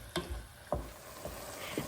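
Meat browning in a pot for Brunswick stew: a quiet, faint sizzle broken by several sharp scrapes and stirs of a utensil against the pot.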